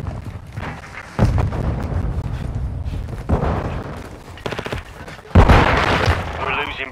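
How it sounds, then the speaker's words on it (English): Explosions and gunfire from a Call of Duty Modern Warfare domination match, with several heavy booms, one grenade blast loudest near the end, and bursts of shooting in between. Voices shout callouts over the battle. "Throwing grenade!"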